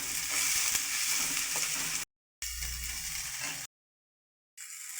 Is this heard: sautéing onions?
yes